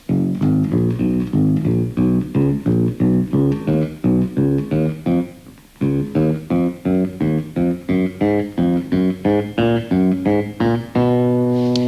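A sustained-tone instrument plays quick repeating four-note runs that climb step by step, loud and up close, ending on a held note.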